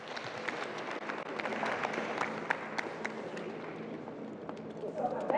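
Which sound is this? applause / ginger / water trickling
applause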